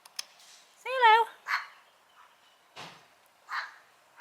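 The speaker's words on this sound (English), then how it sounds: "The dogs go crazy at it." Several dogs bark in short separate bursts with a whimpering, yelping call among them, fairly close by in a home garden where a cat is teasing them.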